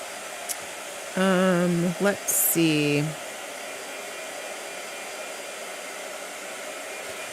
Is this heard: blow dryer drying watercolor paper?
yes